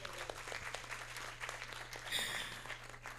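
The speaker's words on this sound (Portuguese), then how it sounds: "Palmas!" Clapping from participants in a webinar marking the Darcy Ribeiro centenary, a faint, thin scattering of hands over a low steady hum, brief and uneven.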